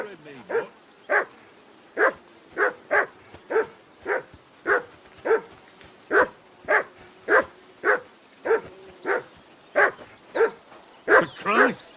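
A dog in the medieval game Kingdom Come Deliverance 2 barks insistently, sharp evenly spaced barks repeating about once a second, fairly close and loud over a quiet background.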